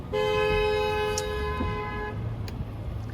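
A car horn gives a steady toot for about two seconds over a continuous noisy roadway rumble, with passing traffic noise around it.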